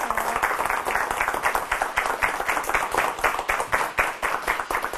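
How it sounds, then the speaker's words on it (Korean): A studio audience of military strategy graduate students breaks into steady, dense applause, many hands clapping together close up, loud and continuous throughout. "큰 박수로 맞이해 주시기 바랍니다"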